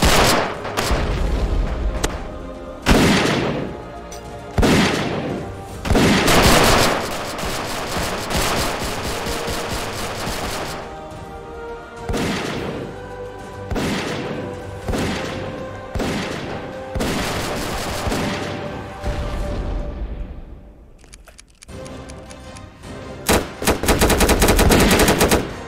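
War Simulator video game battle with dense machine-gun bursts, rapid gunshots and heavy booms of artillery, loud and repeated throughout with short pauses between volleys.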